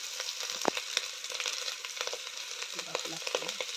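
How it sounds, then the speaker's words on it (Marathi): Masala sautéing in hot oil for a mutton and biryani dish, a steady close sizzle with scattered crackles and a few sharp spatters throughout, no voices. "हा मसाला आता परतून घेतला जात आहे तेलामध्ये"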